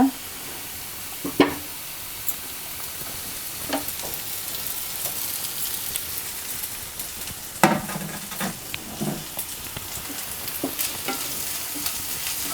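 Flaked, deboned fish frying with onions in a pan for fish dosai, a steady sizzle with occasional spoon stirs and scrapes against the pan throughout.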